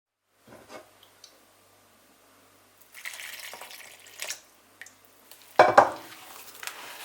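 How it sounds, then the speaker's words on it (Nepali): Rice flour, sugar and water for sel roti batter are stirred by hand in a bowl, giving intermittent close scraping and wet mixing bursts separated by quiet pauses. "चिनीलाई पनि पिठोमा मिक्स गरिसकेपछि अब कम्ती पानी राख्दै ब्याटर बनाउनपट्टि"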